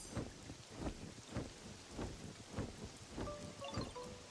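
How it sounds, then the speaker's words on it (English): Steady rain pours in a blocky sandbox game world while rolling thunder rumbles in repeated low swells, with a few faint tonal chimes near the end. "Oh, cool, it's raining."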